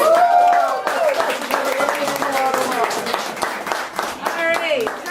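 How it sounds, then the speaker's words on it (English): An audience claps for children after a puppet performance, a steady wash of applause lasting several seconds with voices and brief singing or chatter mixed in over it. "Let's give the kids a hand."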